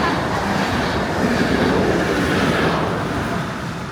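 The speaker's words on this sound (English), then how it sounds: "I think I hear a train coming." A train rumbles through a station deep in an underground salt mine, a dense, loud, broadband roar with rattling wheel noise that holds steady and then begins to fade, with no voices.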